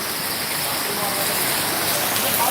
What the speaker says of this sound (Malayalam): ഹൈദരാബാദിൽ പുഞ്ചക്കോട്ട എന്ന് പറയുന്ന സ്ഥലത്താണ് ശക്തമായിട്ടുള്ള മഴ